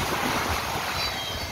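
Ocean surf at Piúma beach in Espírito Santo, Brazil, gives a brief, steady wash of breaking waves mixed with wind rumble on the microphone, with no voices.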